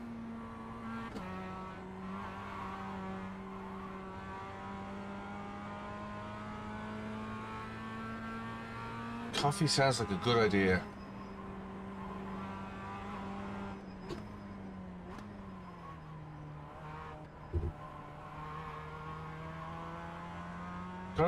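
A Mazda race car engine in the iRacing sim holds a steady drone that shifts pitch through gear changes, with a brief burst of tire squeal midway, under occasional talk.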